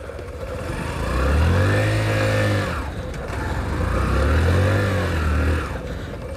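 Hero Passion Xtec 110 motorcycle with a worn clutch plate, its small engine revving in two swelling surges with a low hum between them, close and steady with no voices.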